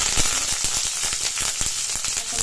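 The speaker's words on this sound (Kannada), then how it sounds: "ಎಣ್ಣೆ ಕಾದಿದೆ ಸೊ ಕಟ್ ಮಾಡಿ ಇಟ್ಕೊಂಡ್ರೆ ಮೂರು ಹಸಿಮೆಣಸಿನ್ಕಾಯಿ ಮತ್ತು ಸ್ವಲ್ಪ ಚಕ್ಕೆನ ಹಾಕೋತಾ ಇದ್ದೀನಿ" Three green chillies and a little cinnamon frying in hot oil for spicy egg sukka, giving a loud, close, steady sizzle with rapid crackling pops throughout.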